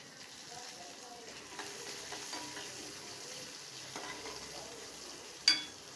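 Cashews and soya gravy ingredients sauté in a pan with a quiet, steady sizzle and faint stirring scrapes, ending in a sharp metallic clink.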